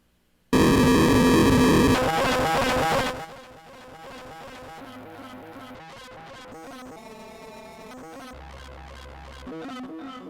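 A loud, buzzing distorted Animoog synth tone blares for a few seconds, then gives way to quieter glitchy, pulsing electronic textures.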